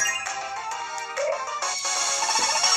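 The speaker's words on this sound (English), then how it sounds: "Alright, I gained a level." Level-up jingle from the Nintendo Switch game Miitopia, a bright, loud chiming melody of rising tones that plays alone without any voices.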